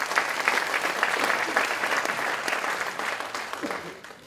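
Audience applause at a political campaign meeting, a steady, moderately distant wash of many hands clapping that holds for several seconds and eases slightly toward the end.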